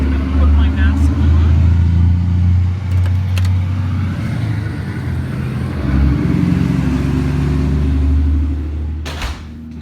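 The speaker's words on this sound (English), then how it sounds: "Giant dump truck that went by" A giant dump truck drives past outdoors, its loud, deep engine rumble swelling, easing and building again across about ten seconds, with a few brief clanks and someone speaking over it.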